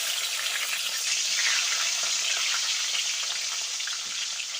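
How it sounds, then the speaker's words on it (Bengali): Tomatoes go into the same hot oil left from frying katla fish, setting off a constant bright hissing sizzle that holds at moderate loudness throughout. "তো ওই একই তেলে আমি দিয়ে দেব টমেটো"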